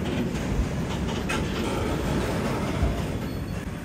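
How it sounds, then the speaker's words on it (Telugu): A goods train passes close alongside a halted passenger train near Bhuvanagiri railway station, its wagons rumbling loudly and steadily with rhythmic wheel clatter and faint metallic squeal throughout. "గూడ్స్ అయితే పోతుంది పక్కన నుంచి"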